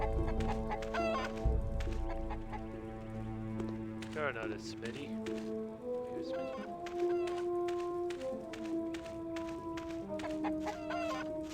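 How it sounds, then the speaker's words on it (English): Chicken clucking in the retro video game TechnoMage, a few short clucks over steady game music while someone talks throughout. "Chicken."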